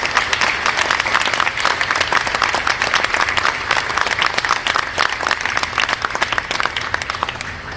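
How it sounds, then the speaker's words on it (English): Sustained applause from a large audience at a public transit funding announcement by the Canadian federal government, dense steady clapping filling the whole stretch at close range with little variation. "Should we give them a big round of applause for the federal government?"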